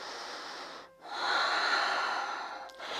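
Deep, steady breathing during a yoga practice, a long airy inhale-exhale sound close to the microphone with a brief pause near the start; no talking.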